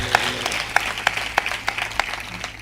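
Congregation clapping at a Telugu church service, a loose scattering of claps in bursts rather than sustained applause, moderately near over a steady low hum.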